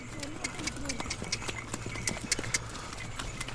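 Horse hooves clip-clop on a snowy mountain trail at Sonmarg in Kashmir, a fairly close, regular beat with a few sharper strikes, heard beneath ongoing talk and outdoor background noise.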